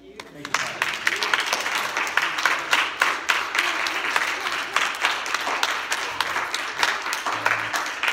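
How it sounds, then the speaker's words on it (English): A church congregation claps hands in praise during a Thanksgiving Sunday service, steady loud applause filling the room with dense overlapping claps and some voices mixed in throughout. "Give God a hand clap of praise."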